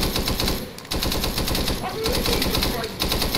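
Sustained machine gun fire in the Arma 3 video game during a Vietnam-era squad battle, loud, dense and continuous bursts with short gaps, mixed with other battle noise.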